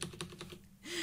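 Quick bursts of keystrokes on a computer keyboard while entering an SQL statement, a short run of close, light taps followed by a pause.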